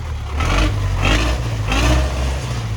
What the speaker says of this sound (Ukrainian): Оце звук настоящого дізеля,